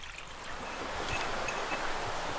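A river flowing along a rocky mountain trail, a steady broadband rush of running water that stays fairly faint and even throughout, with no voices.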